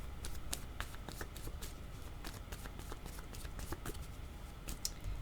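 Tarot cards being shuffled by hand in quick, rapid riffles and snaps, close and fairly quiet, repeating steadily with no talking.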